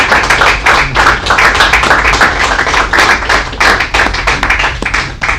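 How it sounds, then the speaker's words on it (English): A lecture audience gives a round of applause: loud, close, steady clapping from many hands, with individual claps audible throughout the crowd. "I want everybody to give him a round of applause"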